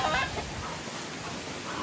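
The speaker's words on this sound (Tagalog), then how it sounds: "yung isa naman nating manok" Chicken clucks nearby amid rustling farmyard noise, giving a short run of low, throaty clucks.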